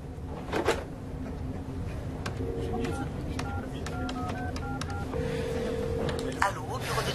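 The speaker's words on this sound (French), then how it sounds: "Il faut que j'appelle John Price." A telephone number dialed on a phone keypad in an office setting, a series of short, distinct tones in uneven rhythm, fairly close and clear over a quiet background.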